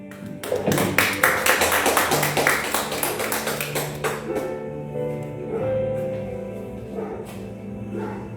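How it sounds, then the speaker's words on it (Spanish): A church congregation claps hands together in a rhythmic burst of sharp, fast claps that lasts several seconds and then stops, leaving a sustained organ-like tone and light murmuring in the hall. "Le damos una ofrenda de palmas a Dios."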